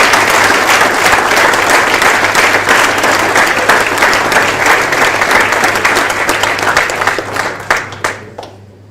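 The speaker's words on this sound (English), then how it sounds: "big round of applause for Rob MacDonald" Audience at a tag rugby capping ceremony applauds loudly and steadily in a large room, a dense rain of many hands that thins and fades out over the last couple of seconds.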